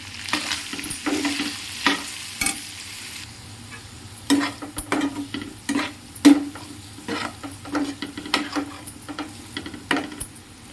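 Chicken fry being stirred in a pan with chili powder and salt, a steady sizzle of frying under scattered scraping and clinking strokes of the spoon against the pan, close and moderately loud, with no talk.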